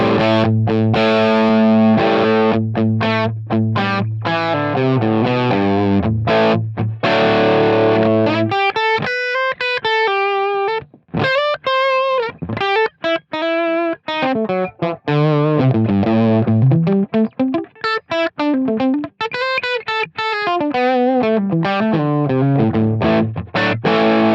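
An electric guitar runs through a Helix Brit Plexi Nrm amp model with high and low cut EQ, opening with sustained distorted chords, then moving into bright, bending lead lines with short pauses, loud and alone.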